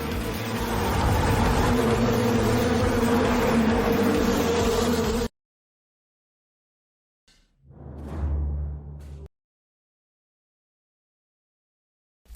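A swarm of mosquitoes buzzes in a dense, steady drone for several seconds, cuts out to silence, then a shorter burst of buzzing returns.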